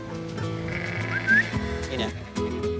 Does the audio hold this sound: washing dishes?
no